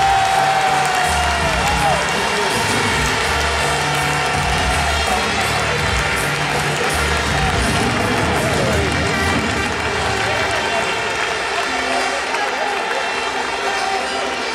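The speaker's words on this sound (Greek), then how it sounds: "Χειροκροτήστε τους, η ιστορία του Ομόνια." An outdoor festival crowd applauds and cheers at length, dense clapping with shouts and whistles from a large audience, while an announcer's amplified voice speaks over it and music plays underneath.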